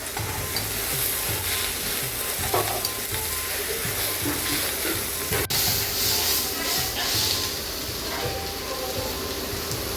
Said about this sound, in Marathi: त्याला आधी फ्राय करून घेऊ छान.